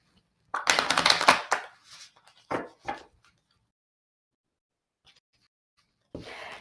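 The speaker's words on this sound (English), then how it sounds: "Let me make sure my decks are all nice and shuffled for Jen's question." Tarot card decks are shuffled by hand in a few riffling bursts: a long close run, two shorter ones a second later, then a brief final flurry after a pause.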